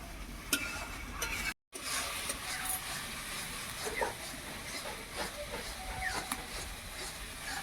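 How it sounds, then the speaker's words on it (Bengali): Tomato paste with a little water being sautéed and stirred in a pan: a continuous low sizzle with scattered soft scraping clicks from the stirring, close and fairly quiet, and no clear speech. "এবারে বেশ ভালোভাবে কষিয়ে নেবো যাতে টমেটোর গন্ধটা চলে যায়"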